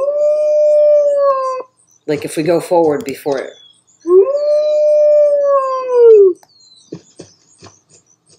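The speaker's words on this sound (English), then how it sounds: "That's the whole point of being a wolf, is to be able to howl." Wolf howls from the wolf simulator game I am Wolf: two long, loud, sustained tonal howls, each held for about two seconds, separated by a burst of yipping and whimpering, with a person talking over the later part.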